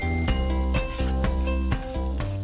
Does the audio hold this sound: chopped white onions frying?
yes